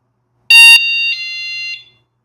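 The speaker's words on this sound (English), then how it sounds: "I'm going to pull the magnet away and listen to the chime" Small home door alarm sounding its chime as the magnet is pulled away: a bright electronic tone followed by a slightly lower sustained beep, close and clear in a quiet room, lasting about a second and a half.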